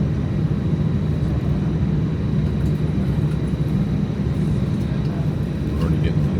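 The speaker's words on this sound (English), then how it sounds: "We'll see if I can record taking off." A loud, steady engine roar fills the cabin of a small airplane on the ground at a tiny one-runway airport, with a constant broadband drone that stays even throughout.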